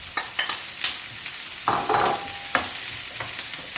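Rice, yellow onion and green onion sizzle together in a pan as they are stirred, with scattered scraping strokes and a soft steady crackle, close and without talk.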